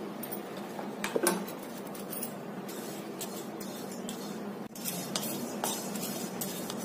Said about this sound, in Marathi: आता कढईमध्ये पोहे भाजून घ्यायचं.